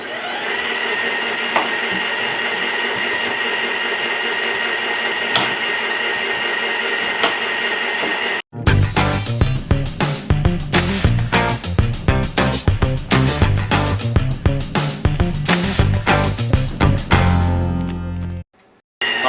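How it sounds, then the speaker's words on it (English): A Philips Micro juicer whirs with a steady motor hum, then grinds and crunches loudly and rhythmically as apples and lemon are pushed through, its tone shifting with each piece before it cuts off. "Alright, so I'm continuing to juice in the Philips micro juicer, and it's working."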